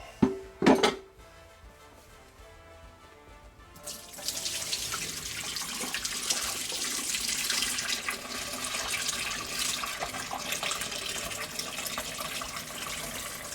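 Dirty rinse water from cleaning a sailboat's interior carpet splashes and pours out steadily, a rushing broadband wash that starts after a couple of clattering knocks and continues to the end.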